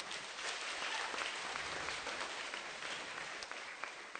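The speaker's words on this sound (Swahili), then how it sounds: "Tũjipigie makofi" A church congregation at a Catholic Mass in Kimunyu gives a steady round of applause, an even wash of clapping heard faintly from a distance, with no one speaking over it.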